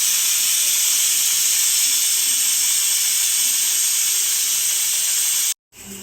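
The second whistle of a pressure cooker on a medium flame: a loud, steady, close steam hiss that runs unbroken for several seconds, then cuts off abruptly near the end with a brief quieter tail and no talk.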